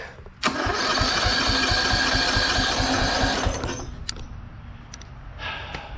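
A Bolens tractor engine cranks over on its electric starter in a rapid, rhythmic chugging burst for about three seconds, then stops, followed by faint clicks and a brief second whir.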